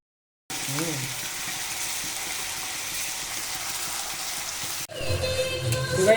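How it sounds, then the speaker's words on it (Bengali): Ginger garlic paste hits hot oil in a wok for chicken curry, giving a loud, steady close-up sizzle that surges sharply near the end as the paste is stirred. "এবার আদা রসুনের পেস্টটা দিয়ে দিচ্ছি এর ভিতরে।"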